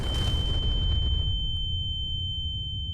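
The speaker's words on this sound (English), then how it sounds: "So one nuclear explosion isn't exactly like, oh my god, it's amazing." A nuclear missile detonates in the mining game Hydroneer, a loud, sustained low rumbling boom that fades slightly over three seconds while thin steady electronic tones ring above it.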